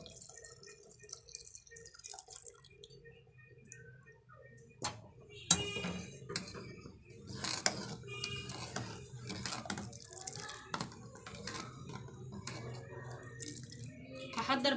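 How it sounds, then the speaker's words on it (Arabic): Boiled milk poured onto cooked rice in a pot, liquid splashing and dripping in uneven bursts with a few utensil knocks, moderately close, faint at first then building. "هحط بقى عليه اللبن."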